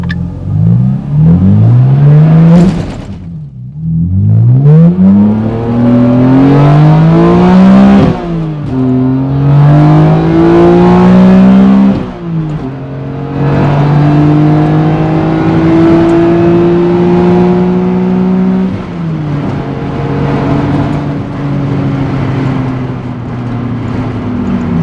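BMW Z4 M engine revving hard as the wheels spin on a wet track, with loud rising and falling engine pitch sweeping repeatedly across the whole stretch, close and sustained with no talk.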